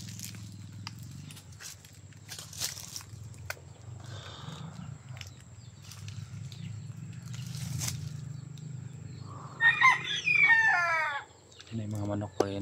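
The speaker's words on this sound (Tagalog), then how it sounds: "Yan yung mga manok pa yan" A rooster crows loudly and close among chickens, a drawn-out call near the end, while people talk and rustle in the background of a rural yard.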